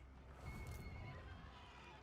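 A horse whinnies in the video game Total War: Warhammer 3 over a steady rumbling background, a short high neigh that rises and fades within a couple of seconds.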